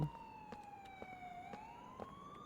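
A police siren in Grand Theft Auto IV wails with a steady pitched tone that slowly dips and rises again, moderately distant and faint, with small knocks of other game sounds.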